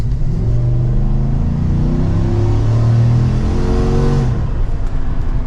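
A supercharged 2024 Chevrolet Silverado 1500 ZR2 pickup engine accelerates smoothly under mild throttle, its loud rising drone climbing in pitch for several seconds before easing off, close and without talk.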